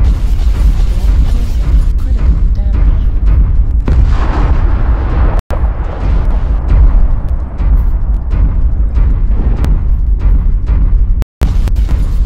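Loud, continuous video game combat with dense gunfire and booming explosions filling the whole stretch, broken by two brief dropouts.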